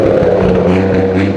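A 4-door Toyota Supra's exhaust rumbles loudly and steadily on a dyno, a dense low engine drone holding near constant level for the whole moment with no talk.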